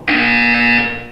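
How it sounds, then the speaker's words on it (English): A loud, steady electronic buzzer from the Portal 2 video game sounds once, starting abruptly and holding for nearly a second before tapering off, with no voices over it. "When you hear the buzzer, look up at the ceiling."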